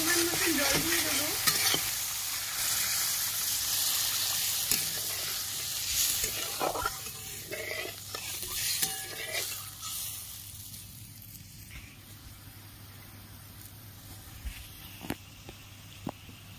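Bata fish curry masala with salt is stirred and sautéed in a pan, loud sizzling and scraping at first that fades into quieter frying with scattered clicks of the spatula.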